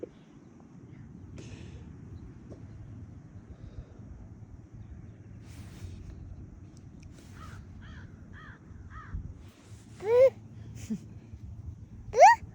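Outdoors among the woods of Woods Cross, Utah, a crow caws in short, repeated rasping calls over a low wind rumble, followed by two sharper, louder call-like cries near the end. Those last cries may be a small child imitating the crow.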